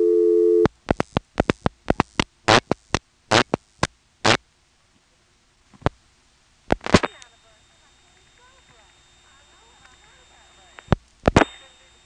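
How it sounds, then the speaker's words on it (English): Step-by-step telephone switching equipment from 1977 in the Elizabeth City, North Carolina area dials a non-working number: a rapid series of sharp clicking pulse bursts, a pause, more clicks, then a steady tone with faint switching noise. "then we'll dial 6 for tandem, 21 to reach the Mamie office, and then the last 3 digits of a non-working number"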